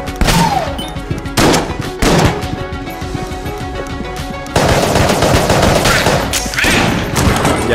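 Guns fire in the bullet-hell game Enter the Gungeon, loud, close bursts of rapid shots with sharp impacts and a steady rattle of bullets running throughout, growing denser toward the end.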